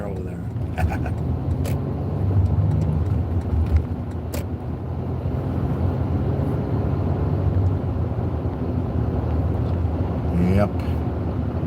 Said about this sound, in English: I guess it's a little windy.